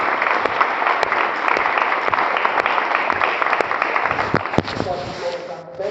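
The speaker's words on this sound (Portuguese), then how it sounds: "Você pode dar um aplauso ao Senhor?" A church congregation applauds together, a thick, sustained wash of clapping with sharp individual claps standing out, while a voice carries on over the top before the applause thins toward the end.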